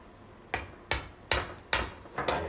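Hammer striking a C9 Christmas stake light during a repair of rodent damage: five sharp, evenly spaced blows about half a second apart, close and distinct.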